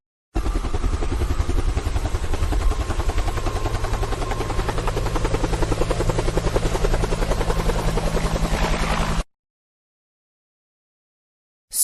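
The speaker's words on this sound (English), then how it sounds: "Helicopter." Helicopter with rapid, steady rotor chopping over a loud engine roar, close and continuous for about nine seconds before cutting off abruptly.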